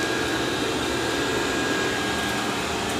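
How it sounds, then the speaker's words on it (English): A Dreame D10 Plus robot vacuum runs continuously, giving a steady, even whirring hiss close by, with no talking. "I'll have it go vacuum that then"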